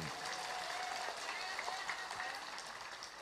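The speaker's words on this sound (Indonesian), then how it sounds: "Tepuk tangan untuk Cak Percil." Crowd applause for a comedian at an entertainment evening in an Islamic boarding school, a dense, steady wash of clapping lasting a few seconds, with voices and cheers mixed in.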